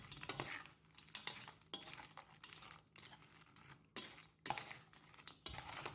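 Crispy fish salad with celery is tossed in a bowl, giving repeated close scraping and clinking of utensils against the dish in irregular strokes, with crinkly rustles between.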